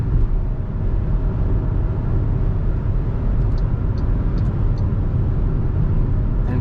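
A 2025 MG HS accelerates onto a highway toward 130, heard from inside the cabin as a loud, steady roar of road and engine noise with no speech.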